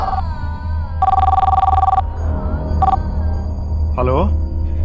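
A telephone rings in repeated electronic bursts, loud and close, with a voice speaking briefly over the ringing near the end.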